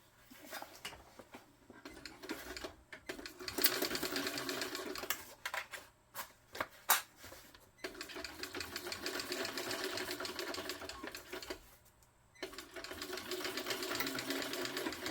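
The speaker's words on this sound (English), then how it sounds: "now we're going to sew that down" A sewing machine stitches down the handle of a tote bag in steady runs of needle chatter, pausing briefly now and then before starting again, close and fairly loud with no talking.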